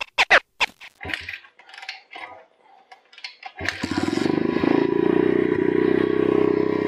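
A small dirt bike engine, being set up for carburetor tuning, catches after a few clattering knocks and taps, then idles steadily and loudly nearby with a fast, even putter as it warms up.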